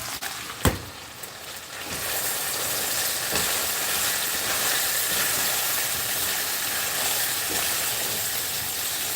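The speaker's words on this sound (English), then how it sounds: "You can hear all that fat from the ground beef in there." Ground beef fat crackles and sizzles in a frying pan, a dense continuous hiss after a sharp clatter at the start.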